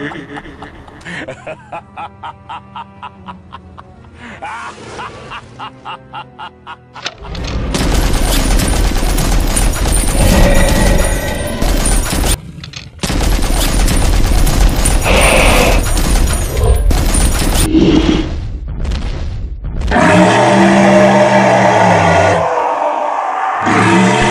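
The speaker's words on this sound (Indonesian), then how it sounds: "Ayah mau tembak ini dinosaurus." Rapid bursts of gunfire hit a dinosaur in an animated, game-like scene. The shots come in loud volleys and staccato runs, mixed with chuckling laughter and brief vocal sounds.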